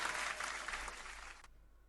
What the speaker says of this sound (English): Let's show a round of applause to everybody in the chat.